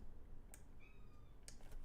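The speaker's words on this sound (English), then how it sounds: "My cat is calling me." A house cat gives two short, faint meows from nearby against a quiet background with soft clicks, no one speaking.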